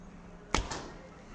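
A single shot from a Black Shadow Nomad bow gives a quiet, sharp thump, followed by a fainter second knock and a brief low hum, alone in a quiet setting.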